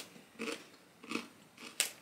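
Crunchy Tesco snacks are bitten and chewed up close, three distinct crisp crunches spaced about half a second apart, with no talking.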